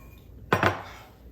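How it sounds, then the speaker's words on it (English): A utensil scrapes across the metal bottom of an Instant Pot holding vegetable broth, two quick clattering strokes close by against a quiet background. "So make sure you scrape the bottom of your pot."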